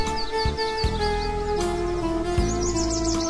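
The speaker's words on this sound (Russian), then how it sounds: "Вот поют птички." Small birds chirp and twitter in short repeated phrases over a steady musical tone, the song continuing throughout at moderate volume.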